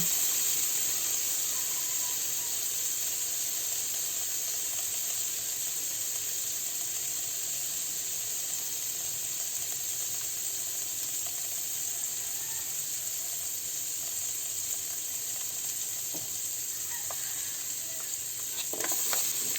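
Sliced garlic sautés in a pan for chicken tinola with bottle gourd, a continuous close sizzling hiss that holds steady for the whole stretch, with a few faint clinks toward the end.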